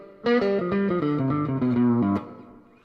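An electric guitar played through a Bugera Infinium 5-watt amp with an 8-inch speaker and reverb set just below noon rings out in a short run of sustained notes, then rolls off into a brief reverb tail.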